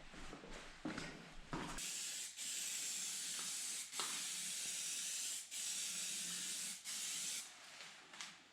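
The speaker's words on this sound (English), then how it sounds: "now I can put some primer on it" A spray can hisses primer onto a metal part of an articulated offroad machine's firewall, in long steady bursts with brief pauses, close and fairly loud, preceded by a short clatter of handling.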